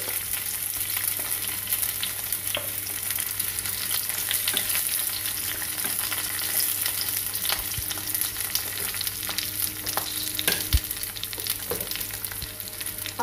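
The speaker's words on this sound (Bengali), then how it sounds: "যে চিকেনটা আমি সিদ্ধ করে রেখেছি সেগুলো আমি একসাথে সটে করে নেব।" Chicken pieces with onion and capsicum sizzle and fry steadily in a pan over a gas flame, with scattered light stirring scrapes and clicks throughout, continuous and fairly close, no talking.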